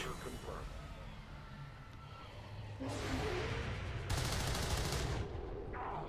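Gunfire from the video game XCOM 2: War of the Chosen, heard as loud broadband bursts and sustained volleys that swell in the second half, over a constant low rumble of game ambience.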